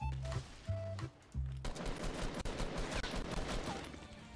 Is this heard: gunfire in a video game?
yes